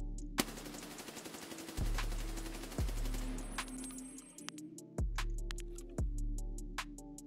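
Full-auto gunfire from a short-barrel loud Mutant rifle fired while crouched in Escape from Tarkov, heard as an opening volley followed by sharp, evenly spaced reports ringing out with tonal tails, loud and close, with no talk.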